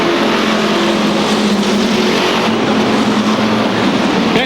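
Loud, roaring street stock car engines drone steadily as the cars accelerate at a restart at Seekonk Speedway, a dense continuous motor noise with no talking.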